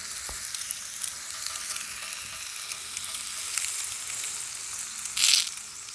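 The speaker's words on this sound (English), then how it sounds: "I heard a little crackle sizzle there" A thin-cut Angus ribeye steak sizzles and crackles on a Temu BBQ grill, a steady quiet hiss with scattered pops and one brief louder burst near the end.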